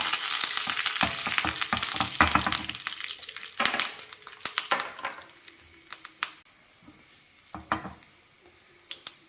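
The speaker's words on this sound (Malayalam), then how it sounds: "കടുക് പൊട്ടി അതിലേക്ക് കുറച്ച് കറിവേപ്പില, 2 വറ്റൽമുളകും ചേർക്കാം." Curry leaves and two dried red chillies hit hot oil with popped mustard seeds for a carrot kalan, giving crackling sizzles and sharp spits in bursts that ease off toward the end, close and alone.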